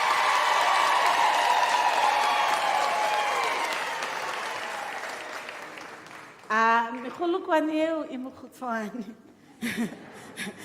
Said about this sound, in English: I'd like to invite ululations, applause for these colleagues who will be graduating